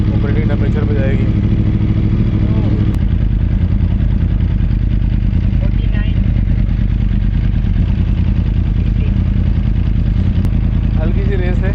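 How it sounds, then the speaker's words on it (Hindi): A 2009–14 Yamaha R1 sportbike idles on its base map while warming up toward operating temperature, a loud, close, steady engine rumble with even firing and slight clatter throughout. "ये बेस मैप अभी चल रहा है, अभी बाइक ज़रा हीटअप और गर्म होगी, ऑपरेटिंग टेम्परेचर पे जाएगी।"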